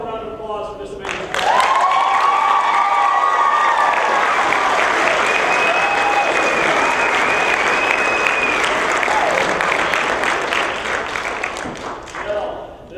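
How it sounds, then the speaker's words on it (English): Sustained, loud applause from a school theatre audience after a performance of Macbeth, dense and steady for several seconds before tapering off at the end. "applause for this amazing"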